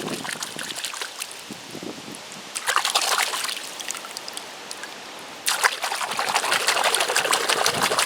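Water from a sink faucet runs steadily while rinsing a plaster cast, a continuous splashing trickle that swells louder in two bursts as the flow hits the cast.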